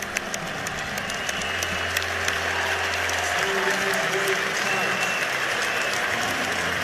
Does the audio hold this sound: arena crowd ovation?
yes